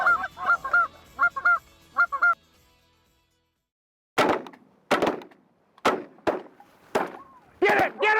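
Several Canada geese honk in quick repeated calls, then after a brief pause a series of sharp, loud shotgun blasts rings out during a goose hunt.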